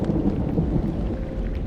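Steady rain falls on a grey morning at Valmikinagar in West Champaran, Bihar, with a low rumble of thunder rolling beneath the continuous hiss of the downpour.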